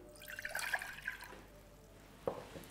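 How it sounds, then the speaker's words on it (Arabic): Water poured into a saucepan to start a sugar syrup for basbousa, a short, faint splashing trickle in a quiet kitchen, followed by a small clink near the end. "في كسرولة هحط المي"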